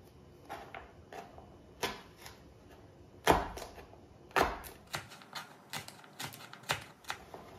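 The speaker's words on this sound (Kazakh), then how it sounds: "Қызылшаны да ұсақтау етіп турап аламын." A knife finely chops beetroot with a sequence of crisp, spaced thuds on a cutting board, a few louder strikes among lighter ones, close and without speech.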